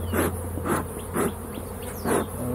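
Bees buzz close by in four regular swells, each rising and fading over a steady low drone, with no voices.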